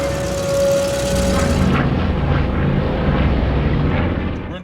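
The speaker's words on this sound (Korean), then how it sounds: "도린다는 테드가 타려던 비행기를 타고 이륙합니다" A fixed-wing firefighting plane takes off in a dramatic scene from the film Always, with a steady, loud propeller-engine roar that fills the whole stretch and then thins out near the end.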